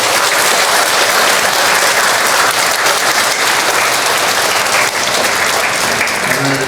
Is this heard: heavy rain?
no